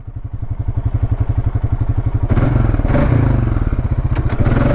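A 2020 Honda Rancher 4x4 ATV idles with a steady, pulsing thump, then pulls away from a stop as its engine note rises and grows louder, close by and without talk.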